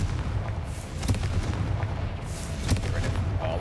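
A Confringo fire spell blasts in the video game Hogwarts Legacy, dense booming bursts and crackling impacts layered over a steady rumbling game soundscape.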